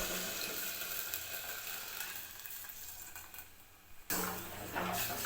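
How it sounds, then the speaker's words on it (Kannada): Water from boiled field beans (avarekalu) is poured into a frying sambar. A quiet sizzle fades, then a sudden louder rush of sizzling and bubbling follows near the end; no voices. "ಇವಾಗ ಕಾಳು ಬೇಯಿಸಿದ ನೀರು ಹಾಕ್ಕೊತಾ ಇದ್ದೀನಿ."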